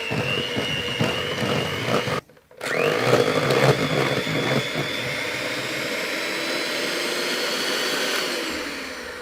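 An electric mixer whisks cheesecake mix in a home kitchen, whirring loudly and close, cutting out for a moment, then running steadily again as the beaters are lifted slowly out of the mix.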